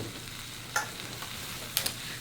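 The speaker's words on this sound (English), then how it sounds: "So while I'm waiting for my delicious sandwiches to finish cooking" Homemade ham and cheese panini sandwiches cook in a pan with a quiet, steady sizzle. A couple of brief clinks and scrapes break through it.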